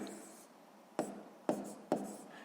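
A pen writes numbers on paper while a math problem is worked out, making soft scratchy strokes with a few sharper taps close by, quiet overall.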